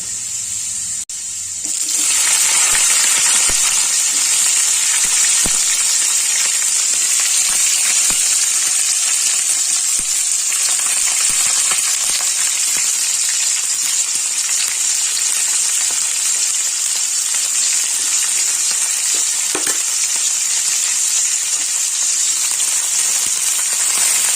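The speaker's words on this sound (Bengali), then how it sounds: "এবার আমি এর মধ্যে দেবো পেঁয়াজ কুচি" Chopped onion drops into hot oil over already-browned chopped garlic for a chicken chatpata, setting off a loud, steady sizzle that starts after a brief quiet moment and carries on unbroken, with a few faint clicks and no talking.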